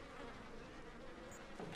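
Flies buzz around a corpse in the horror game Outlast II, a continuous close insect drone that stays steady and alone with no talking.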